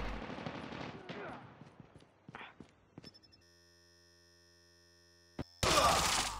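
Call of Duty Mobile gun-game match with bursts of automatic gunfire and single shots early on, then a quiet stretch of steady game tones and a loud final burst of noise.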